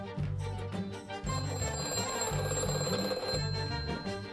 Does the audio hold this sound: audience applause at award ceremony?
no